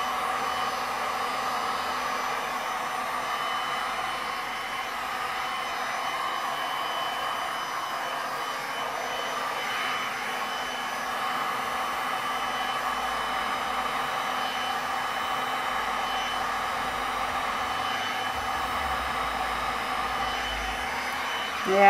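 Steady, loud blowing roar of a heat gun pushing hot air over a resin pour, constant and unbroken throughout, with no talk over it.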